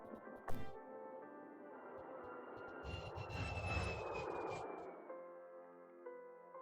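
Passenger jet engines on takeoff in a movie scene, a steady roar with a rising whine, fairly faint and continuous under a brief spoken line.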